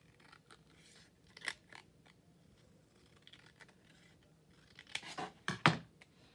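Scissors trimming paper for a collage, a few quiet isolated snips early on, then a quick cluster of louder crisp cuts near the end, close by in a quiet room.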